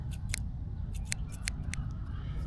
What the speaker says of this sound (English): they're safety scissors anyway. They're for kids